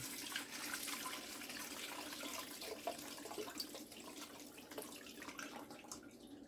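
Fermented jalapeño brine is strained through a sieve, a soft continuous trickle and splash of liquid running steadily at low volume with no talk.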